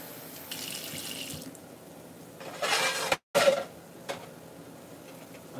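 Tap water runs into a cooking pot in a kitchen, a soft steady hiss broken by louder gushing surges, with a brief cut near the middle.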